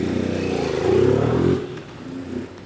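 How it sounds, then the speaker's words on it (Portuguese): A motorcycle runs a red light on a city street, its engine note swelling loudly as it passes close by, then dropping away and fading over a couple of seconds. "O cara de moto passando com o sinal fechado,"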